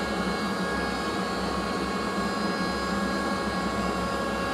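A CNC machine runs in a guitar workshop while fretboards and necks are being prepared, giving a steady, continuous mechanical whine and hum with a broad noisy roar and a few sustained tones, no talk.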